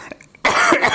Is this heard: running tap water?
no